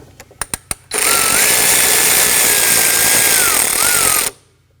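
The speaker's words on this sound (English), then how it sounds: "I am going to use an extension with a shallow socket and loosen and remove that." A socket wrench on an extension with a shallow socket loosens a 10mm bolt near the MAP sensor of a 2017-2020 Hyundai Elantra: a few sharp ratchet clicks, then a loud steady whirring buzz for several seconds that cuts off abruptly.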